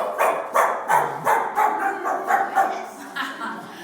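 A person imitates a dog barking during a comedy skit, giving about eight rhythmic, evenly spaced bark-like yelps that carry on steadily across the clip.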